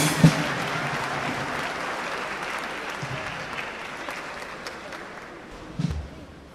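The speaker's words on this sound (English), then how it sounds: "To the glory of God, can we give them a round of applause?" Sustained applause from a congregation at a priestly ordination ceremony honouring newly ordained priests, steady clapping filling the room with a few louder claps near the start and end.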